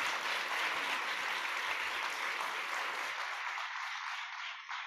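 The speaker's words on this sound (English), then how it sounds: "I just want us all to give Dr. Maté a huge round of applause for enlightening us," Audience applause following a talk, a dense wash of clapping that continues for several seconds and then thins out as it fades.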